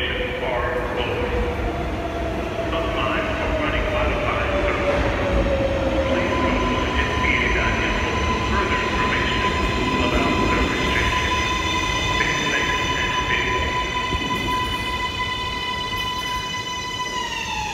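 R143 New York subway L train pulling in to terminate at Myrtle Avenue–Wyckoff Avenue station, loud rumbling wheels with long high squeals and tones as it brakes, under muffled voices.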